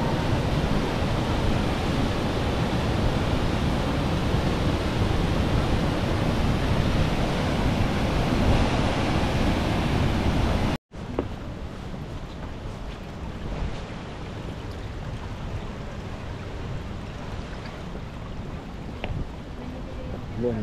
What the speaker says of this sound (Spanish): caída de agua